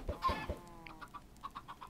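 Minecraft chickens cluck in the blocky game world, giving a string of short, evenly spaced, moderately loud clucks that follow a brief burst of louder game noise.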